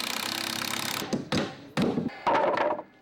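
Volunteers from a home builders association build a wheelchair ramp: a continuous buzzing power saw cutting, then several loud separate thuds and knocks of hammering and lumber handling nearby.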